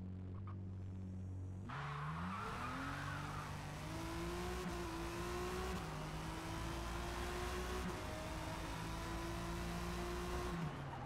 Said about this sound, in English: Gonna launch this car at 2K.